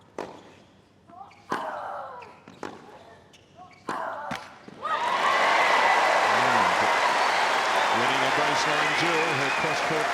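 Tennis ball struck back and forth in a rally at the 2018 Australian Open, first-round women's match, five or six sharp hits followed by loud, sustained crowd applause and cheering filling the arena.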